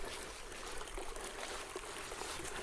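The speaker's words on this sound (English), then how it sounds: "we can hear water coming pretty strong through here." Steady rushing of a strongly flowing stream near its spring source on the Looking Glass Rock Trail, a continuous broadband wash without pauses, close by.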